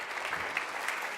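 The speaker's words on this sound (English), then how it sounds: "Please give her a round of applause." Short burst of audience applause at a counseling talk, steady moderate clapping throughout with a few sharper claps standing out near the end.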